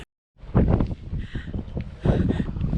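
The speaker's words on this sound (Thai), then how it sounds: "ทุกคนให้ดูความแรงของลม" Strong wind roars and buffets the microphone at a Swiss mountain summit station near Fronalpstock, a loud continuous gusting rush that swells and surges over a few seconds.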